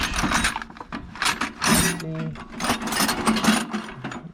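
A ratcheting wrench clicks rapidly while turning 12 mm bolts on a 1976 Toyota Celica GT, coming in close, busy bursts of mechanical ratcheting with brief pauses between them.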